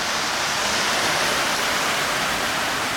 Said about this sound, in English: The rain has not let up.